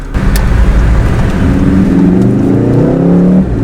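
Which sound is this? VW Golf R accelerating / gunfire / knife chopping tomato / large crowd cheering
VW Golf R accelerating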